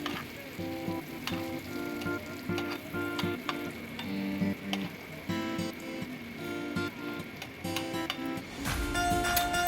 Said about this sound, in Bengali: উচ্ছেটা ভাজা হয়ে গেছে